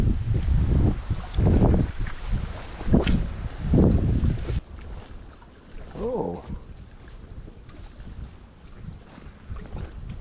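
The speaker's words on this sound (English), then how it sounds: "Pretty windy." Gusty wind rumbles against the microphone outdoors while perch fishing, loud at first and then easing to a softer steady blow, with a brief voice-like sound partway through.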